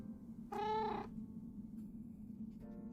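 A cat in Minecraft gives one clear, drawn-out meow over low background hum, followed by a shorter, fainter meow near the end.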